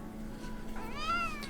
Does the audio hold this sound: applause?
no